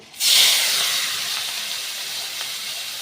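Prawns dropped into very hot mustard oil set off a sudden loud sizzle that starts sharply and then settles into a steady, slightly fading hiss close at hand.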